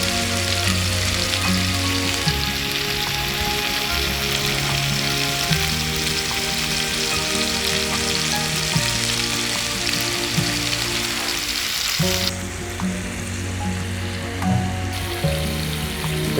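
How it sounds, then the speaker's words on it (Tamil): Chicken pieces for butter chicken fry in hot oil, a steady dense sizzle and crackle that runs unbroken and fairly loud, with a brief dip before it resumes. "அதுக்காக தான் நம்ம அதை ஃப்ரை பண்ணுறோம்"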